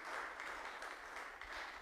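Spontaneous applause breaks out as Pope Francis signs an encyclical before the tomb of Saint Francis: a brief, faint crowd clapping, heard from a distance as a steady patter.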